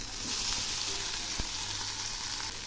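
Cut fish frying with onions in a pan, a steady close hiss of sizzling oil with no talk.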